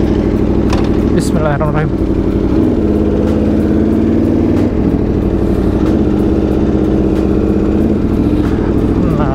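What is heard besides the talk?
Aprilia RSV4 RF motorcycle engine, warmed up and riding off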